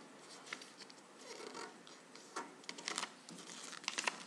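Sheet of paper being creased and folded by hand into an origami piano, with close, continuous crinkling and rubbing plus short sharp crisp bursts, no voices.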